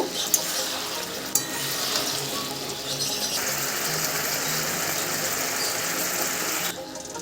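Ridge gourd cooks over a high gas flame while being stirred, giving a steady sizzle with scraping and clinking from the utensil, a couple of sharp knocks near the start, alone without talk.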